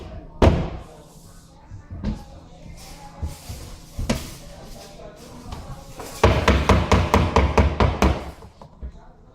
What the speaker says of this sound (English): Make sure to press or hammer all the pieces together with a rubber mallet if necessary.